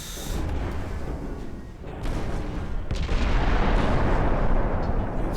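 High-explosive shells fired at an enemy ship in a naval battle video game, heard as dense, heavy booming gunfire and rumbling explosions rolling continuously, loud and with no speech.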